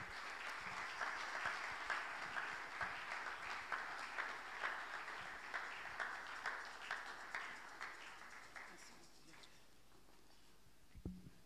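A talk show audience claps for an arriving guest, a dense, steady round of applause with rhythmic pulses that gradually thins and fades out, with a brief thump at the very end.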